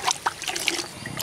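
Seedlings are watered, giving a short patter of trickling and splashing water with a few brief spurts, close and moderately loud.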